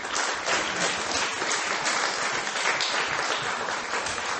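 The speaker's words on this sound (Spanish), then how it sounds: "Denle un aplauso al Rey" An audience at a church sermon bursts into steady, dense applause, many hands clapping continuously at moderate volume with no break.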